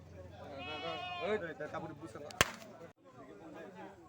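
A goat bleats several times in wavering, quavering calls, close by, mixed in with people talking over it.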